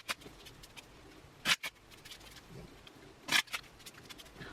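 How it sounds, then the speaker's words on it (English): A deck of playing cards is shuffled by hand, giving two sharp riffle bursts separated by softer card handling and shuffling noise, close and without talking. "let me go ahead and split these up, and I will shuffle them up"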